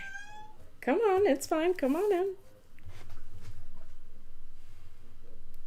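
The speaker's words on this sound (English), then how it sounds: "Weird cat." A house cat gives a run of loud, wavering meows up close, followed by a person speaking calmly over a low indoor hum.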